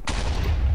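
Gunfire in the Minecraft game Quakecraft: a dense, continuous burst of shooting lasting under a second, loud and close, with no talk over it.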